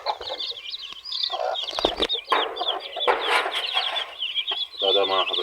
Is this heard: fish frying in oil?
no